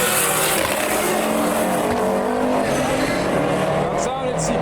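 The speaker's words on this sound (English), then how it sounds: "Oh, the Civic got a launch." A K24-swapped Honda Civic Type-R launches at a drag strip. Its engine roars loud and steady while the tires squeal, and a crowd murmurs and talks around it.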